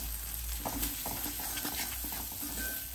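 Rhythmic scraping of a spoon stirring turmeric and salt in a pan, repeated strokes over a constant soft sizzle.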